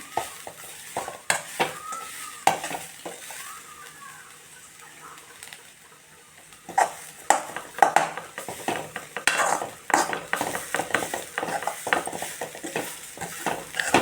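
Carrot halva fries in ghee while a spoon stirs it, with repeated scraping and tapping against the pan over a light sizzle, close by and uneven in rhythm, with a short quieter pause midway.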